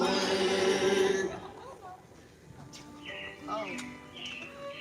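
Robins chirp in short bright calls at a Magic Kingdom park, several brief notes scattered over the second half, coming after a burst of loud background music and ambient crowd noise.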